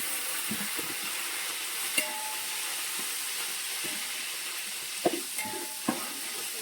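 Green chillies fry in a pan at home for a Sunday biryani, a steady close sizzle and hiss with a few faint crackles and pops and no voices.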